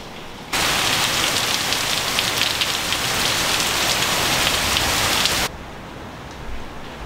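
Heavy storm rain in Eleuthera pours down on surfaces in a dense, loud roar that starts abruptly, holds for several seconds, then drops back to a lighter patter.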